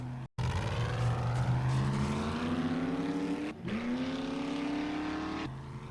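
A vehicle engine in the survival game 7 Days to Die drones and strains at low speed, a loud continuous motor whose pitch climbs slowly, drops at a brief cut, then rises again.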